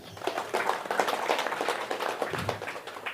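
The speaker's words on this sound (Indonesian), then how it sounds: "Tepuk tangan lagi." An audience at an Indonesian political talk breaks into clapping, a moderate, uneven patter of hands that is fairly quiet and brief, with some murmuring beneath it.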